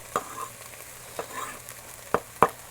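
Minced garlic cooks in a pan for a plant-based mushroom gravy, with faint sizzling under a few sharp scrapes and clacks of a spoon stirring. The scrapes come irregularly and are close and fairly quiet.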